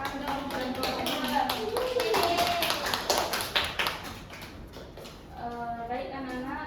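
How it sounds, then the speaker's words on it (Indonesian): Students in a classroom clap for a group that has just presented, a dense burst of hand claps heard under an adult voice and mixed with chatter, then fading out before the talking resumes. "Tepuk tangan untuk kelompok"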